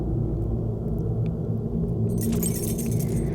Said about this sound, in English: There's a set of keys in the bag.